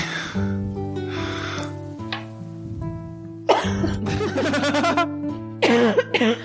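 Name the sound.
coughing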